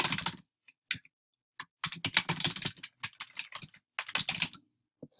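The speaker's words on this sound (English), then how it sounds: "And I can just type in my name here." Bursts of close, crisp keystrokes on a computer keyboard come in irregular clusters separated by short silences.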